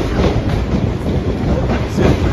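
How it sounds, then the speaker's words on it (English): A train rumbles past close by in Edinburgh, a steady loud roar of wheels on rails with faint rhythmic clatter. "Is there a train coming? Can you hear it?"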